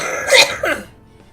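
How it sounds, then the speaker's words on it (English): A couple of harsh coughs or throat-clearing bursts, close and fairly loud, followed by quiet. "Oh my goodness. All the coughing."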